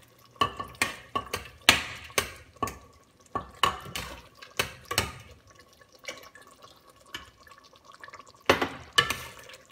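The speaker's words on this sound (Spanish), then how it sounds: "La voy echando poco a poco y voy mezclando." Dissolved flour slurry being stirred into simmering carne guisada, South Texas style, with a series of close, wet scraping and clinking strokes of a spoon against the pot, fairly loud, then a short lull before more stirring.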